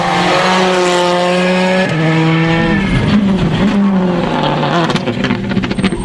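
A Subaru S2000 rally car slides through a rally stage, its engine revving loud and near with shifting pitch and gear changes, tires scrabbling as it passes, heard alone.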